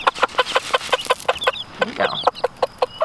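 Chickens cluck in a steady, rapid rhythm close by while being offered sunflower seed treats, with a brief spoken phrase partway through.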